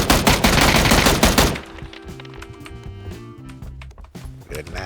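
Automatic gunfire in the PUBG video game opens with a loud, dense rapid-fire burst lasting about a second and a half, followed by quieter rhythmic in-game sounds.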